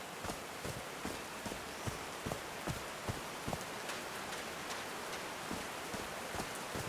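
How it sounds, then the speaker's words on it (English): Rain falling in the video game Call of the Sea, a faint, steady hiss with scattered soft drips and light patters throughout, heard with no talking. "These drops of rain are so refreshing."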